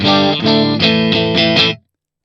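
Electric guitar played dry through a Line 6 HX Mesa Studio preamp model, a few loud sustained distorted chords struck in sequence, then cut off to silence.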